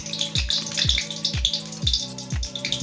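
Cumin seeds sizzle in hot oil for sabudana khichdi, a steady crackling fry with a rhythmic, repeating pulse running underneath.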